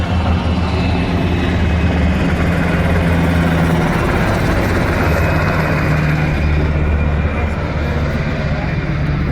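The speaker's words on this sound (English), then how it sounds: "the helicopters are moving." A loud, continuous rotor and engine drone of helicopters overhead in Washington, D.C. fills the scene, heard from a rooftop, with wind-like rumble and faint voices mixed in.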